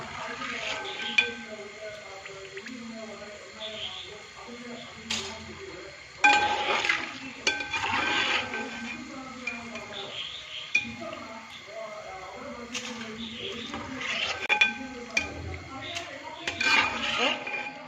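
Jackfruit pieces deep-frying in oil are scooped out of a pan, with repeated metallic clinks and scrapes of a ladle against the pan over a soft background sizzle, while someone talks.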